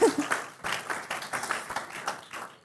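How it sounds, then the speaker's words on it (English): A fertility conference audience gives a short round of applause, with uneven clapping that pulses for a couple of seconds at moderate volume in a hall. "I thought you would give another round of applause"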